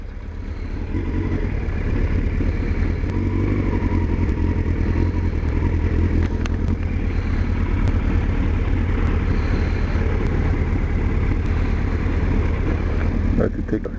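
An Interceptor motorcycle engine runs close by at a steady idle, giving a continuous low rumble with a slight mechanical clatter throughout.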